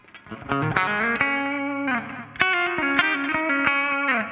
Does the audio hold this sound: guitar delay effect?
yes